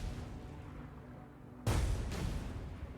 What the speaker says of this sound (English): But with this one, I get double the explosion